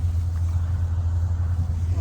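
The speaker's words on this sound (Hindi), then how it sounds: "संगवारी हो गाड़ी हो दे आवत।" A vehicle approaching along a farm road near harvested soybean fields, heard as a low, steady engine rumble at moderate distance, continuous with no voices.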